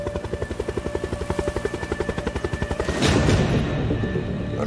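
A helicopter, stolen from an oil company in Iraq in an action series, chops with a steady rapid rhythm of rotor pulses, then swells into a louder, denser roar partway through.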